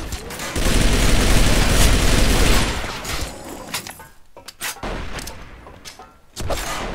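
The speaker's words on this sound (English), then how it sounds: "they updated the gun sounds, especially for the M4, which I'm noticing right now" M4 rifle gunfire in the Arctic Combat video game, a loud sustained burst of automatic fire for a few seconds, followed by scattered single shots and booms with quieter gaps between them.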